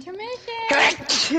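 A single loud sneeze bursts out close to the microphone just after a person speaks, during casual talk over a Roblox game.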